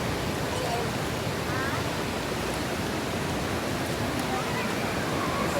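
Steady, loud rushing of water pouring down continuously at Busai Dream Falls in Loboc, Bohol, a broad waterfall roar with no pauses.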